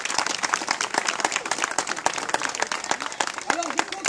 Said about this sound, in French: J'aimerais qu'on donne une bonne main d'applaudissements pour Daphné et Alexis.